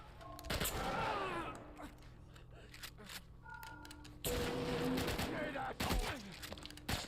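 Pump shotgun gunfire in a video game rings out in sharp, loud blasts amid mechanical clacks and game effects, with a player talking over parts of it.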